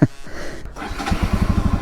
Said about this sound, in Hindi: हमारी बाइक इतनी मेहनत के बाद जो है स्टार्ट होगी।